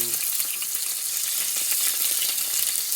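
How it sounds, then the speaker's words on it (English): Garlic and onions frying lightly in a pan for gallo pinto, a steady bright sizzle with faint crackles running throughout, close and even in level, with no talking. "lightly fry the garlic and onions"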